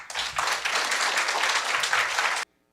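Warm audience applause at an anniversary celebration gathering, a continuous wash of many hands clapping that cuts off abruptly after about two and a half seconds.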